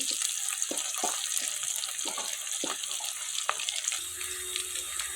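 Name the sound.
onions frying in pan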